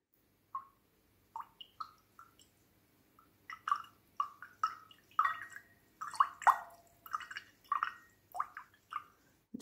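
Water dripping and splashing, played as improvised music: sparse, distinct plinks and drops at close range in a quiet room, coming faster and more clustered as it goes on.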